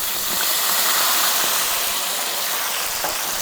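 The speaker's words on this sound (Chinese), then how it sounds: "锅中油加热之后，下入姜和蒜，先把它煸香，再放入大葱，再下入这个番茄。" Tomato dropped into hot oil in a wok after ginger, garlic and scallion, giving a loud, steady, continuous sizzle and hiss throughout, close up with no talking.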